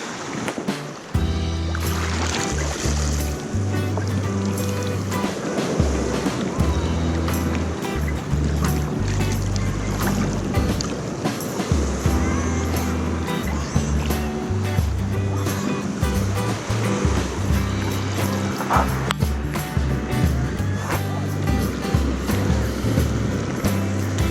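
Surf breaks along the edge of a cut on Clearwater Beach, a loud, continuous wash of rushing water close by with steady low rumble throughout.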